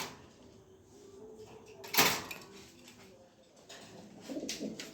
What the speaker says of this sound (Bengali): দেখেন কবুতর দেখেন